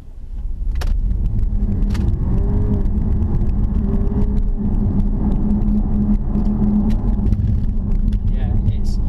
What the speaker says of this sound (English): Let's put our foot down and see how it does.